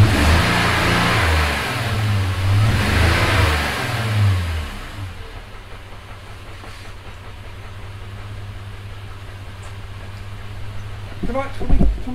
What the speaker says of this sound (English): So it's running lumpy now, yeah, isn't it's it? Running lumpy. Yeah, that's not good. Yeah, it's misfiring, you can feel it.